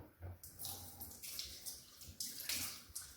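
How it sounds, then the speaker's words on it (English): Water from a tap splashes into and over a plastic yogurt tub during rinsing, in uneven gushing bursts close by and fairly quiet, with no voices. "I'm going to rinse my yogurt tub"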